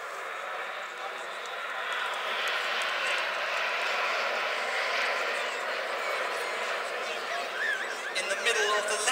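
A Red Arrows BAE Hawk jet roars steadily overhead during an airshow display, a broad, sustained rushing engine noise from a distance, with a commentator's voice running over it.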